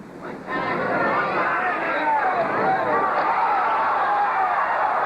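Crowd at a 1968 professional bowling tournament in San Jose reacting to a shot, a sudden swell of cheering and excited chatter that rises sharply and holds loud and steady, with a voice mixed in.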